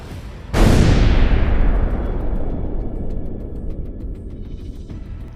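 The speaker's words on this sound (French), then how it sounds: "il a été touché, cette fois par une frappe HIMARS." A HIMARS rocket strike explodes on a Russian ammunition loader in one sudden, loud blast whose deep rumble decays slowly over several seconds.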